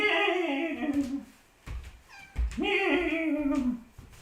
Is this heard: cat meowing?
yes